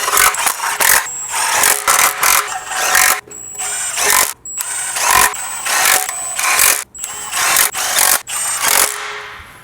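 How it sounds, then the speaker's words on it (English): Engine bolts being installed and tightened on a Lexus, with repeated bursts of a loud power tool whirring in short pulses and brief gaps between them, close up. "Now we just install the rest of the bolts."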